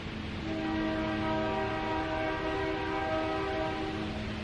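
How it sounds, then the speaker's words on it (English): A train passes, its horn sounding as a sustained chord of steady tones over a low rumble of the cars, fairly loud and unbroken for several seconds. "There's a train coming."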